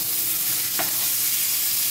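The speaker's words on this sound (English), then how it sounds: "let's hear the sizzle" Food sizzling in hot oil in a pan, a steady crackling hiss with a brief clatter partway through.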